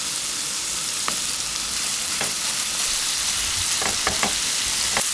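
Tteokgalbi, Korean minced beef patties, fry over high heat with a constant loud sizzle and spatter, punctuated by a few sharp pops and light taps of a utensil in the pan.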